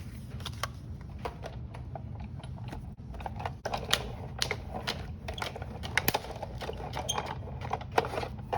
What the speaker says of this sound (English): we'll bring in die cut machine